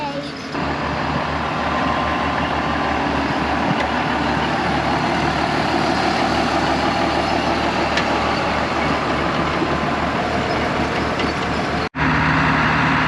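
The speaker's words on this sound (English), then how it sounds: "because this truck has no brakes, he's basically letting it roll back a little bit" An old water truck with no brakes rolls back slowly while its diesel engine runs, a loud steady rumble filling the clip before a brief cut near the end; people talk nearby.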